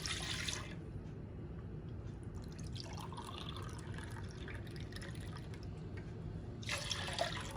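Milk being poured into a pot one cup at a time while making Layali Lebnan dessert, a steady liquid pouring sound with a brighter splash at the start and again near the end, over a constant low background.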